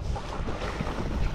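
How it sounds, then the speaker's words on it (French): Steady wind buffets the microphone at sea while small choppy waves lap around an inflatable Hobie iTrek 11 kayak, making a constant low rumble and splash with no voices. "Il y a un peu de vent, il y a un peu de clapot."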